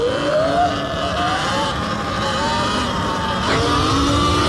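A Surron Ultra Bee electric dirt bike pulls a wheelie: a steady, close electric motor whine rises and falls with the throttle, continuous and fairly loud, with no talk.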